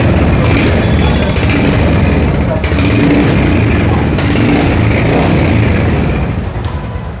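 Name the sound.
Royal Enfield motorcycle engine started and idling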